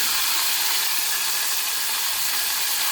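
Steady, loud hissing sizzle of chicken strips frying in a pan, continuous and even throughout with no voices.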